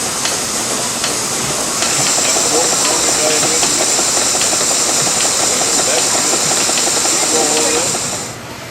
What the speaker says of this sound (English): with a steam engine powering a number of woodworking tools